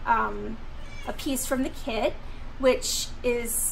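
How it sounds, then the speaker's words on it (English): A cat meows repeatedly for attention, its short rising and falling cries coming close and interleaved with a person talking. "if you hear the meowing, that's what's happening"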